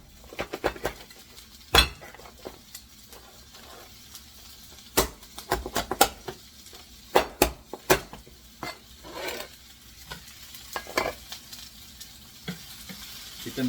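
Lobster tails being stirred in a wok with a cleaver, sharp metallic scrapes and clanks breaking out in irregular bursts over a steady background sizzle of frying.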